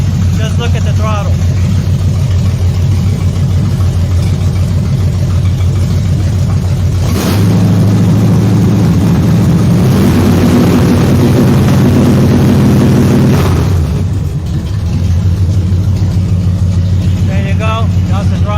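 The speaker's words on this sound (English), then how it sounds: "I'm gonna give it some throttle and try to film at the same time." A big block 7.4L 454 V8 in a 1974 Nova runs loud and steady at idle, then climbs in a sustained rev held for several seconds before dropping back to a rumbling idle, with a voice talking over it.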